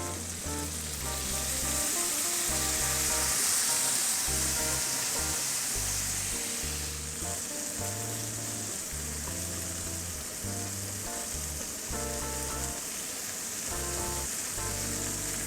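Tamarind prawns sizzle in a covered pan after a splash of water is added, a loud, steady hiss and crackle of frying that continues without a break.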